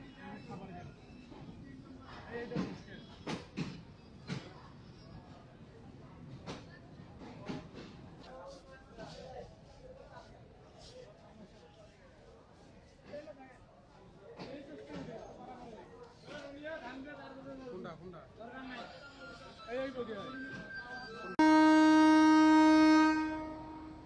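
The Rupsha Express rolls into platform 2 at Khulna railway station, running late: irregular clanks and rumbling under station chatter, then a loud, sustained horn blast close by near the end.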